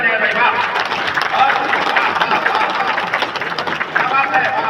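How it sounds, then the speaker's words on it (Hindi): An audience at a poetry recital applauds loudly and continuously, dense clapping mixed with crowd cheering and voices throughout. "दोनों हाथ उठा के तालियां हो जाए भाई"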